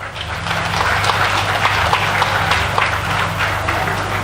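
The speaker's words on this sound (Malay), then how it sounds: "Tepukan gemuruh untuk Puteri Reformasi." Loud, dense applause from a crowd at a political rally, a steady wash of clapping with faint cheering mixed in, continuous throughout and heard close.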